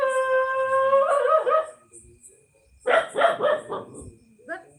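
A dog yelps and barks in short, strained bursts, first drawn out and then in a choppy cluster, fairly loud against a quiet background, with gaps of near silence between.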